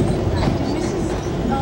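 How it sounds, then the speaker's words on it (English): Steady rumble and rattle inside a moving 1970s train car, a continuous close rolling drone with faint wheel clatter. "Right now we're riding in a train car that's from the 70s."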